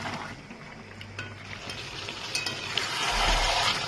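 Chicken pieces for a chicken curry with potatoes sautéing in a pan, a continuous close sizzle with light stirring scrapes that grows slightly louder toward the end.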